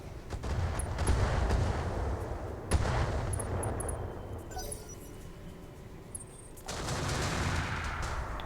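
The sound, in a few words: Inferno weapons firing in BattleTech video game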